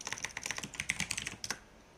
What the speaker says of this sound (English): If you type npm --version as well